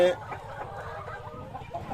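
A large tiger-breed rooster of six to seven kilograms at a poultry farm clucks in a quick series of short, close calls, steady and moderately loud throughout.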